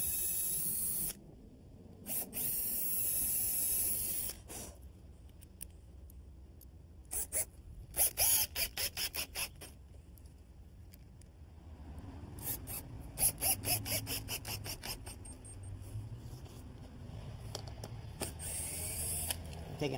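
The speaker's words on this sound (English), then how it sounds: "Taking all the old hinges off" Old door hinges and their screws are taken off up close, giving short, quiet bursts of rapid ratcheting, buzzing, whirring and scraping, separated by pauses.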